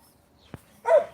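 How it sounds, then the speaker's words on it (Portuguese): A dog gives a single sharp, close bark after a brief click, otherwise quiet around it. "Meu cão não pode ver um gato, fica louco."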